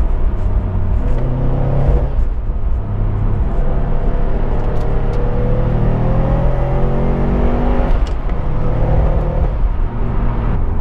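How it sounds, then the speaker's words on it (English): A turbocharged 400 hp Subaru Impreza WRX STI rally car engine roars loudly and rises steadily in pitch as it accelerates and the turbo kicks in, with a continuous rumbling drone throughout. "the turbo kicks in."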